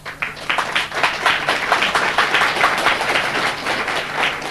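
A studio audience at a 1988 Icelandic TV quiz claps for its team, a dense, steady round of applause that stays fairly loud throughout.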